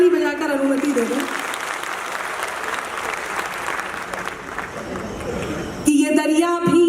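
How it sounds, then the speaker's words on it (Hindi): An audience at a Hindi spiritual discourse breaks into sustained applause, a broad wash of many hands clapping for several seconds, with a speaker's voice heard at the start and again as the clapping ends. "एक बार ताली बजाकर अनुमति दे दो"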